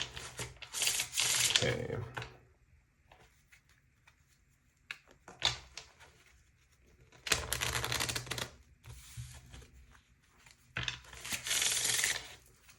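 Tarot cards shuffled in several bursts of fast riffling and slapping, close and crisp, separated by quiet pauses with light handling and a brief spoken word.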